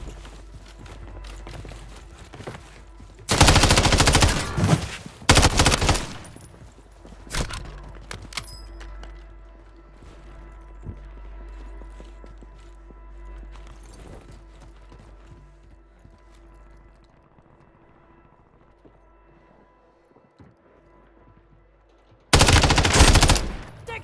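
Gunfire in a shooter video game comes in loud automatic bursts, heavy at the start, then scattered lighter shots over a quieter stretch, and a final loud burst at the end.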